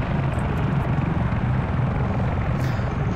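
A helicopter in the Arma 3 video game thrums continuously with a rapid rotor chop and broad engine rumble, loud and close throughout.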